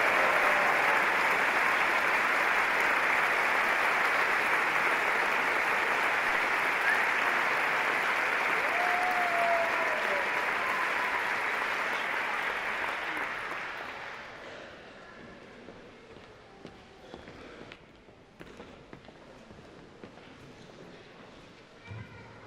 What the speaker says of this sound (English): let's just give all those amazing graduates another round of applause